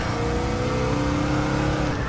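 A Dodge Charger SRT Hellcat in Plum Crazy Purple revs and accelerates, its engine a steady, loud, dense roar that holds throughout with no voices.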